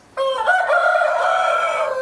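A Peruvidai lineage rooster crows once, loud and close, a sustained harmonic call lasting nearly two seconds against a quiet background.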